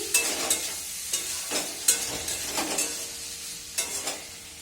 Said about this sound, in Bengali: মটরশুঁটি আলু ভেজে দিচ্ছি